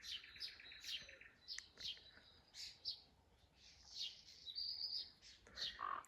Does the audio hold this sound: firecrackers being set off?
no